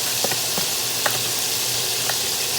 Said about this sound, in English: We're gonna put the rice in there now and do a thing.